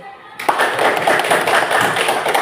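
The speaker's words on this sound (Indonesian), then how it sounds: "Tepuk tangan sekali lagi." A classroom of students clapping their hands together, a dense, loud, continuous patter of claps that starts abruptly after a brief quiet moment and keeps a steady pace throughout.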